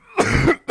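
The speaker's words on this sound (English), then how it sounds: "Sorry for the coughing, guys." A person coughs during a Path of Exile 2 gaming session, one harsh, close cough followed by a short second burst.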